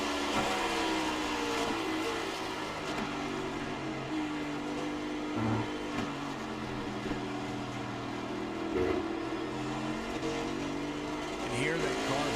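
Race car in a racing video game on the Daytona road course, engine droning steadily throughout with low thuds where it bottoms out over rumble strips, a voice commentating under the noise.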